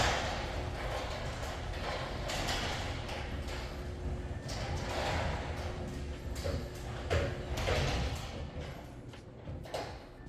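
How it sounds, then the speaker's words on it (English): Garage doors in a new luxury home in Bellevue, Washington open and close with a steady low mechanical rumble and motor hum, broken by a few soft thumps and rattles, fairly quiet overall. "let's do my famous garage door test, where I test how loud these garage doors may or may not be."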